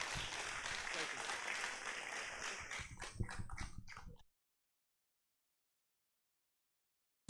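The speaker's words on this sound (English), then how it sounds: "So round of applause for Luke, sir." Audience applause at a live-streamed event at a Decathlon store in Kottayam, a dense burst of clapping with some voices mixed in, lasting about four seconds before cutting to silence.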